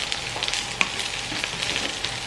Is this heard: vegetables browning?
yes